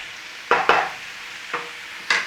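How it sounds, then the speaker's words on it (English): Sausage meat frying in oil and butter for stuffing: a low sizzle broken by four scraping knocks of a utensil against the pan, close and fairly loud, without talk. "Start to cook off that meat in there."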